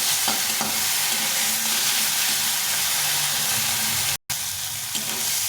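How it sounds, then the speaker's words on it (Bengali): Onion, with tomato, fries in a pan under a loud, dense, continuous sizzle and hiss with faint stirring, close up and without speech; the sound cuts out for a split second near the end. "এখন যেহেতু আমি পেঁয়াজ বাটিনি ওই জন্য এভাবে পেঁয়াজটাকে ভেজে নিই"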